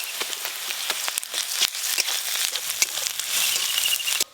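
Garlic paste and chopped onion fry in oil tempered with nigella seeds, sending up a close, crackling sizzle dotted with sharp pops and spits at an uneven pace.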